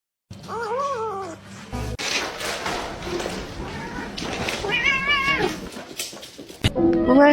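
A cat meows several times in clear, rising and falling calls, close and fairly loud, with people talking around the cat between and over the meows.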